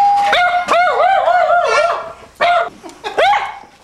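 A dog gives a run of loud, close, yelping barks in uneven bursts, some drawn out into whiny, pitched cries, with short pauses between volleys.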